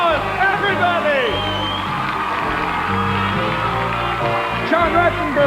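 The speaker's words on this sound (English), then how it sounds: "Let's give them a big round of applause, everybody!" A studio crowd cheers and whoops loudly for the cast of Cheers at a live behind-the-scenes special, a dense roar of voices with shouts rising throughout, close and sustained with no single speaker standing out.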